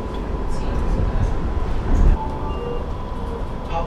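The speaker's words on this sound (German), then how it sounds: "Da vorne wartet jetzt meine Bahn." A train at a station, with a loud, steady low rumble and rolling noise throughout and a brief swell near the middle, heard close by without clear speech.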